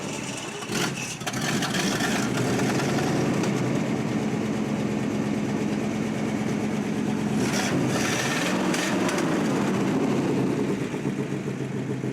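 A 1936 Pontiac engine idling after a cold start, a steady rumbling drone with a rough exhaust note that runs unbroken, close by and fairly loud, with a few clanks and knocks.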